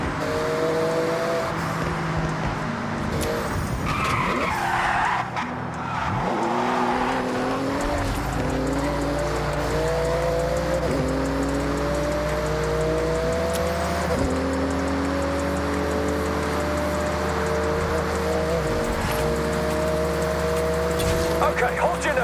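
A Porsche races through a speed zone in Forza Horizon 6, its engine note rising and falling through repeated gear shifts for over twenty seconds, loud and continuous, with a deep rumble beneath and a voice talking over it.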